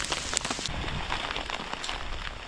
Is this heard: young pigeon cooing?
no